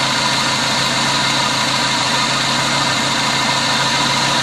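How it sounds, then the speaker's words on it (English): A Dodge Neon engine chugging from low fuel runs loud and close with a steady, rough drone, vibrating continuously without any talking. "The engine's starting to chug. We're getting less and less fuel"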